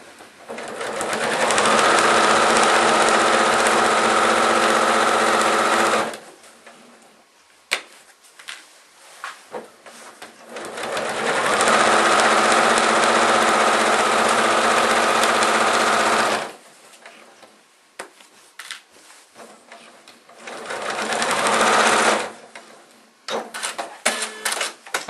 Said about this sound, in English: If you have a needle up, needle down button, you want the needle to go down in between stitches when you let your foot off the presser,